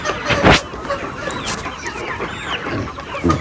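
Chickens crowd a poultry farm, clucking and squawking in a dense, continuous chorus. A sharper call cuts through early on, over a constant background rustle.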